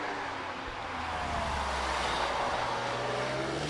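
Porsche race car pulling away from the start line at the Prescott hillclimb, a steady engine roar with a low tone that rises as it moves off, heard from a moderate distance.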